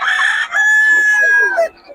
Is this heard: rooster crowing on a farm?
yes